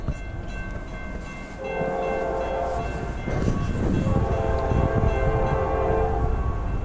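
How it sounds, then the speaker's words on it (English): A Norfolk Southern freight train rolls past in snowy weather with a loud, rising rumble and a sustained horn blast. "Norfolk Southern train 206"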